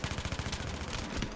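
Rapid automatic fire from an MTAR-21 rifle in Battlefield 3, an even, fast rhythm of shots in one continuous burst, moderately faint.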